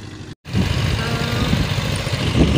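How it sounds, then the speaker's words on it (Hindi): Tractor pulling a plough across a farm field, its engine chugging in a steady low rumble at close range, broken once by a brief dropout near the start. "तो ये देखें अब हम इसके ट्रैक्टर के नज़दीक आए हैं। ये देखें वो हल चला रहे हैं"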